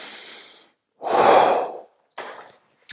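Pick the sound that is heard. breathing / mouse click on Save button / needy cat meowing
breathing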